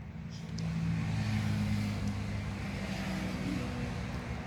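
A remote-controlled toy car drives steadily, its small motor giving a continuous buzzing whine with no speech over it.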